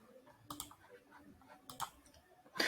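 A computer mouse clicked a few times in quick pairs, close and faint against a quiet room.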